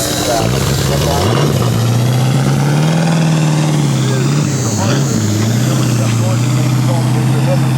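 A Ford Mustang GT350 engine idles with a steady low rumble that swells slightly in a few brief blips, heard close and loud with people talking over it throughout.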